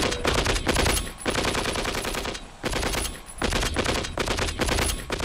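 Sustained machine gun fire in a Vietnam War tank battle, with dense, loud rapid bursts broken by brief pauses, continuing throughout.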